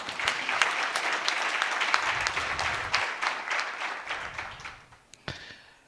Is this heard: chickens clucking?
no